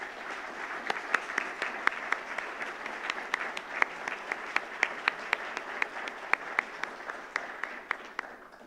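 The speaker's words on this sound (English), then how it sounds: "Can we give them some applause" An audience applauds teachers at a bridging ceremony, a steady, moderately loud stretch of clapping with sharp individual claps standing out from the wash. The applause holds for the full length with no talk.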